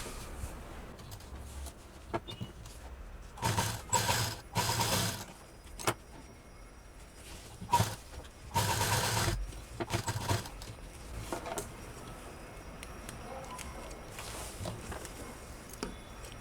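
A sewing machine stitches piping onto a fabric machine cover, running in several short bursts of a few seconds each, separated by quieter handling pauses.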